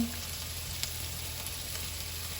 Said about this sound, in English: in this skillet, we're gonna fry the plantain